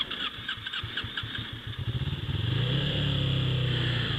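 Suzuki cruiser motorcycle engine with its idle speed turned down, chugging unevenly up close for about two seconds before settling into a steadier, louder running rumble.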